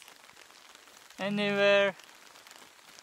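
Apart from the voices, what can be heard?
rain in the Zambian bush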